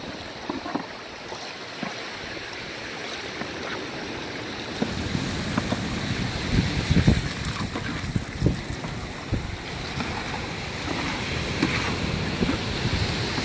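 Water gushes from a hose into a container holding floating plastic and organic material, a steady broadband rush that grows louder and rougher partway through and continues to the end.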